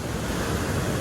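Water flowing past in a steady broadband rush, loud and close with wind mixed in, heard on a long cycle ride.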